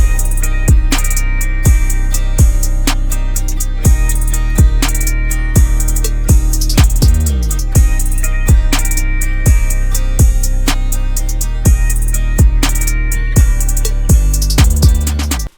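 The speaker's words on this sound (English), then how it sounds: "Then next we gotta add in that 808." Deep 808 bass hits in a simple pattern anchor a country rap beat, booming under steady drums, hi-hats and cowbell percussion, with a pitch glide around the middle and no voices.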